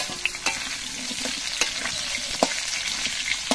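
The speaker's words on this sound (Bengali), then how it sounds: "এর মধ্যে আমি আলুগুলো দিয়ে দিচ্ছি" Potatoes dropped into a pan of hot oil with fried cumin, cooking for a thin Ritha fish curry, give a steady close sizzle broken by sharp clicks of stirring and spatter.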